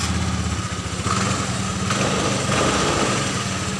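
A Honda Vario scooter engine idles steadily after a carburetor vacuum replacement, a close, continuous buzzing putter with a slight rise in revs near the end, no talking.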